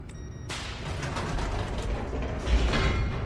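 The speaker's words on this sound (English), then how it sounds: "Sketchy elevator." An elevator mechanism in The Stanley Parable video game starts with a sharp clunk, then settles into a grinding, rumbling mechanical drone with creaks and a low thud near the end, with no speech.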